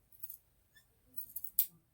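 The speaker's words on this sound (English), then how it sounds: "It's my scissors, cut across." Scissors snipping across a sewn fabric seam, a few short crisp cuts in bursts, close and quiet with no talking.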